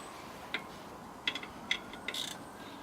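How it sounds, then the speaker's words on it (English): A ratchet clicks in short, sparse bursts while tensioning a belt on a Land Rover Defender steering pump, quiet and close, with no talking. "Got ourselves a ratchet in the hole in the square. We can now pull it down like so."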